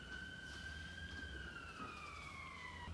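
An ambulance siren wails faintly in the distance outside, a steady tone that slowly drops in pitch as it moves past, over a low background hum with no speech.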